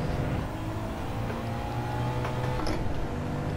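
A car in Gran Turismo 7 with manual shifting drives along, its engine droning steadily and loudly and rising in pitch at moments, with no break for the whole stretch.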